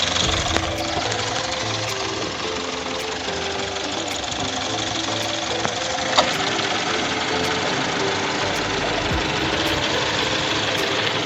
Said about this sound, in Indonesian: Nah, ini ada kipas untuk AC. Nah, kita coba kita hidupkan AC-nya.